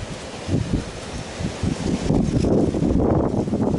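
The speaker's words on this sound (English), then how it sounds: "Oh, that wind's picking up." Wind gusts through foliage, leaves rustling and hissing as the breeze strengthens, with low buffeting rumble against the microphone.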